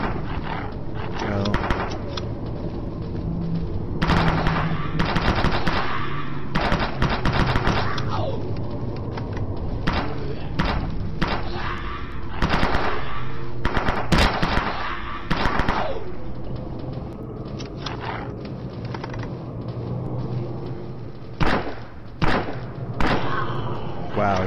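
Gunfire rings out in Dead Frontier, a zombie shooter flash video game. Repeated sharp shots and thuds come in bursts over a droning background, mixed with growls, and a player talks at intervals.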